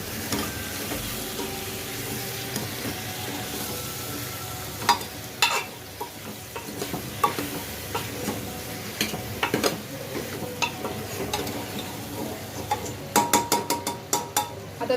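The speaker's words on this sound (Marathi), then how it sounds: "पुन्हा या भाज्या आपल्याला पूर्ण 2 ते 3 मिनिटं फ्राय करून घ्यायच्या आहेत." Beetroot and mixed vegetables fry for pav bhaji in a pan, giving a steady close sizzle broken by repeated scraping and stirring strokes and a few sharp clinks of the spoon against the pan.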